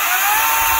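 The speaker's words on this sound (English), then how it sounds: "So it's the Ego 18 inch chainsaw." An EGO battery-powered 18 inch chainsaw runs steadily at full speed, a close, loud, even high-pitched whine with no pauses and no talking.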